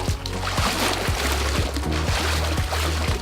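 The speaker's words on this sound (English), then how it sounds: "you know you're working hard if you're splashing on the deck" Water sloshes and splashes in a swim spa as someone works out with dumbbells, with rhythmic surges repeating about every half second over a low pump hum.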